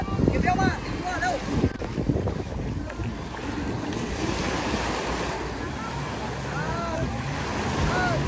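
A boat ride on the sea off Pattaya, Thailand, carries a constant wash of waves and wind buffeting the microphone, with a boat's low hum and people talking intermittently over it.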